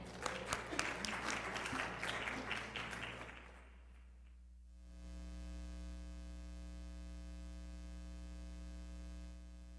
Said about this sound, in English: let's have a round of applause for Nayase.